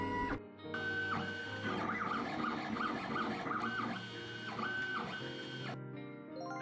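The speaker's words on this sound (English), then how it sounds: "Nope, 3D printer." A 3D printer running in a toy-repair simulation game, a steady whirring of stepper motors with shifting pitched tones and mechanical buzzing, starting, running continuously for several seconds, then stopping.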